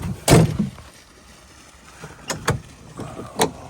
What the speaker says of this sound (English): Oh, about broke the door.